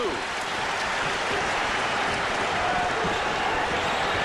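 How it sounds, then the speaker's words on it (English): Dense, roaring noise from a basketball arena crowd at a 1991 Lakers–Warriors playoff game, cheering and yelling without pause at a steady, loud level. "The crowd starting to get into it, and they're yelling, "Good D, let's see if they can turn it over.""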